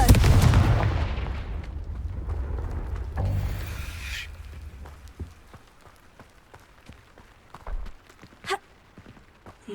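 The Confringo fire spell is cast in Hogwarts Legacy, starting with a loud blast that fades into a rumbling tail, followed by scattered crackles and a few smaller thuds.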